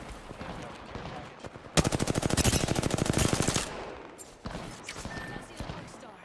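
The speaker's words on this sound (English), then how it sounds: "The enemies are shooting at me." Enemies fire on the player in an Apex Legends match, a loud, sharp burst of automatic fire lasting about two seconds that stands out against the quieter game sounds, followed by a few softer scattered shots.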